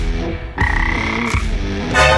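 A person makes loud, buzzy frog-like croaks with their mouth, a few drawn-out ribbits in a row, close to the listener.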